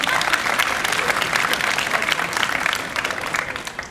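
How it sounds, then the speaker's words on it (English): A school audience at a senior speech breaks into lively applause, a dense, even roar of many clapping hands close by that tapers slightly toward the end. "can we get one more round of applause for Eden"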